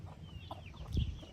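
Chickens cluck softly in an expanded backyard chicken run, a few short scattered calls over low ambient noise, with one slightly louder burst near the end.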